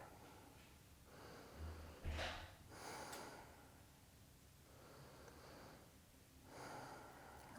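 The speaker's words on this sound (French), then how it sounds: "on fait 2 respirations simples" Slow, deep breaths taken during a post-partum abdominal exercise: breathy inhales and exhales close to the mic, with a couple of sharper nasal puffs, in a quiet room with no talking.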